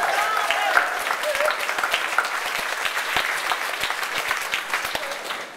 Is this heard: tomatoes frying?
no